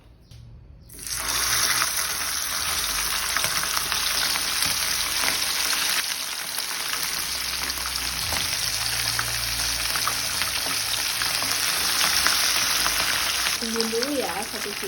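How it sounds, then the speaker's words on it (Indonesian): Boiled, marinated chicken pieces go into hot oil, and a loud, hissing sizzle bursts in after a second of quiet and carries on steadily and close up to the end. "Ini kita akan goreng"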